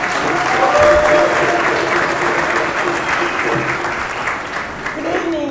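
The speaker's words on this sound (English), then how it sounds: "give a round of applause" An audience claps at a formal commemorative gathering with African diaspora guests and an ambassador. The applause is loud, dense and sustained, fading slightly toward the end, with faint voices mixed in.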